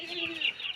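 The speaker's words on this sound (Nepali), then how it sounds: "भैँसी त हेर त कुखुरा" A chicken in a village farmyard gives a short, close cluck, a brief pitched call with no other sounds around it.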